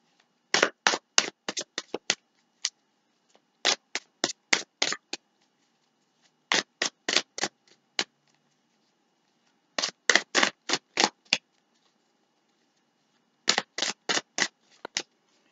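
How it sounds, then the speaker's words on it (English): Quick bursts of playing cards being riffle-shuffled and bridged, in several clusters of rapid crisp flutters separated by short pauses, close and clear with no talking. "All right, we're going to shuffle."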